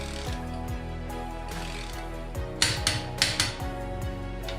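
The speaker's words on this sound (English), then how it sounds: "I don't know if you ever used a torque wrench before, but that sound is like usually when it's torqued." Rapid mechanical ratcheting clicks come from a torque wrench tightening the wheel of a Gen 1 Audi R8, steady at first, then a few sharper clacks near the end, close up with a constant low hum beneath.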